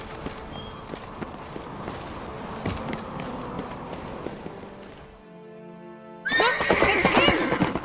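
Horse hooves clip-clopping in a The Witcher 3 game scene, steady walking beats under a low background, then a brief hush before a loud, close neigh and whinny rings out near the end.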